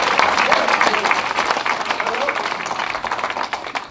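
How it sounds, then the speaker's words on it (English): Applause from a church congregation in Coldwater, Mississippi fills the space, a dense steady patter of many hands clapping close by, mixed with scattered voices from the crowd. "You can give him a round of applause."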